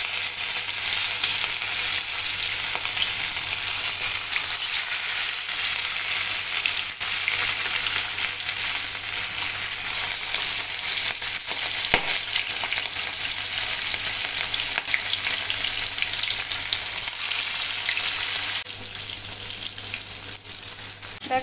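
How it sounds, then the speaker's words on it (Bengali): Katla fish pieces fry in hot mustard oil in a wok, giving a loud, steady, dense sizzle that carries on unbroken throughout with no talk. "এবার আমি মাছগুলোকে ভেজে নেব"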